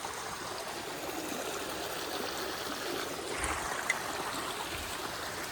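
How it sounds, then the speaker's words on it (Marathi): Rain-swollen stream rushing beside Konkan paddy fields, a steady churning flow of water with small gurgles and one brief splash, nearby and without voices. "पाणी वाढलंय पर्याला आता."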